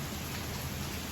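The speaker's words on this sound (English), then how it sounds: "this complete tropical downpour, which has drenched my clothes" Heavy tropical downpour, a dense, constant hiss of pounding rain covering the whole clip, loud and close with no breaks and no voices.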